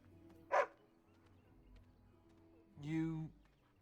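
Mabari war dog in the video game Dragon Age Origins: two separate barks, a short sharp yelp followed a couple of seconds later by a longer, deeper bark, both close and clear over a quiet background.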